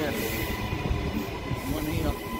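Gold Coast rail service rolling past platform number 1 at Taringa station, a loud, continuous rumble of train wagons with faint wheel noise, sustained and close throughout.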